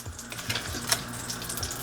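Butter and avocado oil sizzle in a pan that is heating up, a steady close crackle and hiss with a few sharper pops, heard alone.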